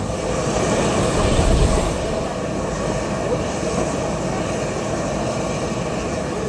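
A continuous low rumble and rattle of a mountain railway train rolling on rails as it descends the mountain, steady and fairly close throughout.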